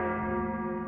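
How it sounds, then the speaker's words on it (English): A single church bell tolls slowly and mournfully, its sustained ringing tone close and steady with no other sounds. "And a bell tolls, sad and mournful."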